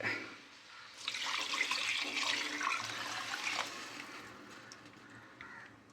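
Water pours steadily into a pot of rice for egg biryani for several seconds, a close, rushing splash that gradually softens toward the end, with no talking.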